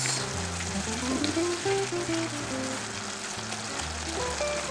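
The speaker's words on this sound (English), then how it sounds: "So we're just going to check up on our tomatoes just to make sure they're well cooked." Tomatoes cooking in a pan for osso buco give off a loud, continuous close-up sizzle with light bubbling and spattering. No one speaks.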